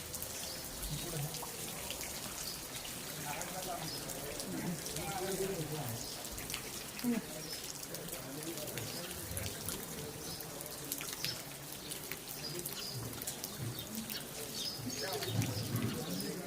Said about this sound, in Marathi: पाऊस एकदम जोरात